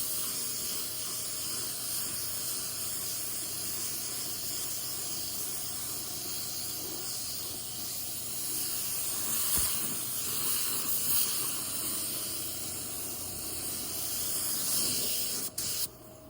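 Spray gun applying blueberry candy paint to a 1984 Chevrolet C10 truck, a steady close hiss of atomized paint running throughout with brief clicks and a short break near the end.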